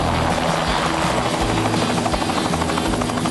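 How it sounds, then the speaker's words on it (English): A landing helicopter's rotor thumps rhythmically, loud and close, with a steady engine whine underneath. "Hank just landed in his helicopter,"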